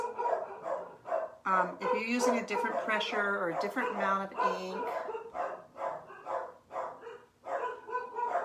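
Dachshunds bark repeatedly in the background while a person keeps talking over them.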